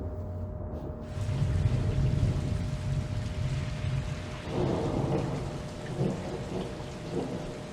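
Thunderstorm in the storm-chasing video game Outbrk: steady heavy rain with loud rolling thunder crackling and rumbling in several swells, no talk over it.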